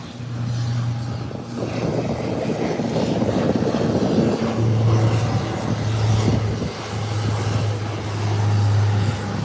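Airliner taking off at Howard Hamilton International Airport, a sustained rumbling engine roar heard from a distance, swelling and easing over several seconds with no voices over it.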